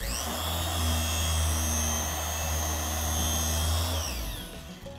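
Porter Cable polisher running on car paint, a loud steady motorized whine with a low droning hum and high harmonic tones that shift slightly in pitch as the machine moves, fading a little at the end.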